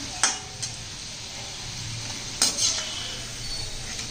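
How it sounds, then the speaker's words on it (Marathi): Modak dumplings frying in hot oil over medium heat, a soft steady sizzle with a couple of light clinks from a utensil against the pan, close and fairly quiet, no talking. "छान असं मध्यम गॅसवर तळून घ्यायचे। पटकन तळले जातात"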